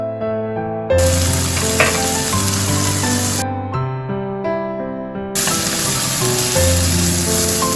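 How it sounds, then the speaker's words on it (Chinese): Chili and preserved mustard tuber fry in hot oil with a continuous loud sizzle and hiss, heard beneath prominent background music. "锅中倒油， 倒入辣椒， 再倒入大头菜"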